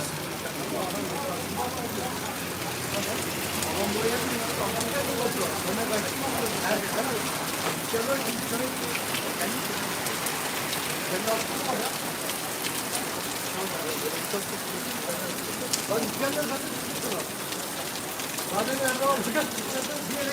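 Heavy, noisy summer rain pours down in a constant dense hiss and patter on surfaces nearby, with a voice talking briefly over it.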